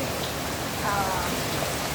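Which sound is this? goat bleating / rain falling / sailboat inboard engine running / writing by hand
rain falling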